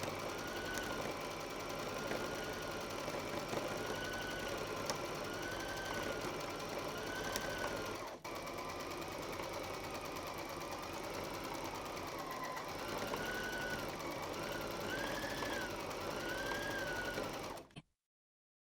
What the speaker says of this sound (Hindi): तो आप पीछे की ओर सिलाई कर सकते हैं, आप आगे की ओर सिलाई कर सकते हैं या आप किनारे पर सिलाई कर सकते हैं